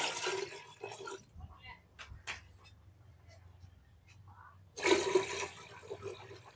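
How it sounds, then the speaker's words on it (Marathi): Water poured into a pot of cooked dal while making chakolya, a gushing splash at the start and another near the end, with quiet gaps between and someone speaking softly. "जेवढं पाणी लागलं तेवढं पाणी टाकून घ्यायचं."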